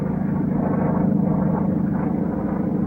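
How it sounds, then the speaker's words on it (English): Propeller aircraft, an English Mosquito bomber with F-51 escorts patrolling near the Yalu River, give off a steady, loud, low engine drone that holds without a break. "an English Mosquito bomber and 4 escorting F-51s, are patrolling near the Yalu River"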